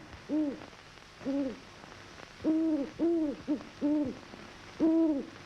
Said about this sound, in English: Here's an interested observer, the wise old grass owl.